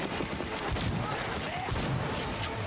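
An old rifle firing in a video game, rapid clattering bursts of shots close and loud, mixed with someone talking over the gunfire.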